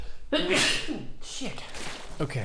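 A single sharp sneeze from a man during a StarCraft coaching session, abrupt and close, followed by a muttered curse and a brief spoken remark.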